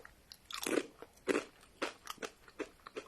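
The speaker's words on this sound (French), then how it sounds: "c'est pour vous faire voir le croquant du gâteau" Several crisp crunches from biting into a crunchy biscuit, close to the mic, with a few bites followed by short chewing crackles.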